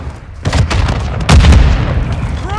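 Frag grenade blasts in Call of Duty Modern Warfare 2: two heavy, booming explosions about a second apart, loud and close, with rumbling tails.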